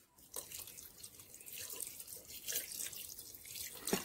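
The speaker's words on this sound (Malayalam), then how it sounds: "പാകത്തിന് നമുക്ക് വെള്ളം ഒഴിച്ചു കൊടുക്കാം, കുറച്ച് വെള്ളം മതി" Water is poured into a pan of homestyle chicken curry, a soft, steady trickling splash lasting a few seconds, quiet and close, with no voices.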